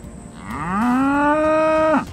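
A White Park cow gives a single loud, close moo that rises, holds steady for about a second and then breaks off sharply.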